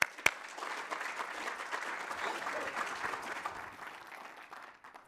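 An audience at Yale SOM applauds as a speaker comes to the podium: a sharp knock at the start, then an even wash of many hands clapping that slowly thins and fades.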